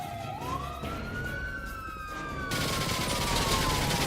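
Police sirens wail as cars arrive in a GTA video game cutscene, a rising, sweeping tone over a broad rumble of noise that swells louder partway through.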